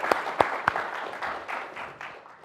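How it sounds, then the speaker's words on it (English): Brief audience applause for Bill at the close of a fireside chat on rural healthcare: a few sharp claps up front that blur into a softer, thinning patter and fade out within a couple of seconds. "So one more round of applause for Bill."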